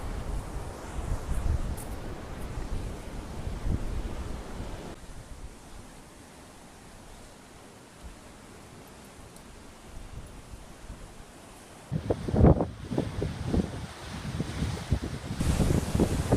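Steady roar of sea waves and wind by a pier at Porthleven, Cornwall, with rougher surges of surf washing in near the start and again toward the end.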